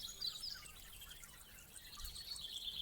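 Birds chirping outdoors in nature, faint thin high calls repeating against a quiet hissy background, with no voices.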